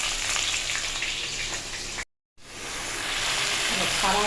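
Bay leaf and cumin sizzle steadily in hot oil for a Bengali fish curry, a dense frying hiss that cuts out briefly midway and returns just as strong.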